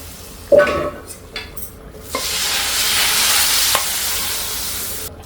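A hot tempering poured into boiling sambar hits the liquid with a sudden loud sizzle that settles into steady close frying hiss, with a few clinks of utensils.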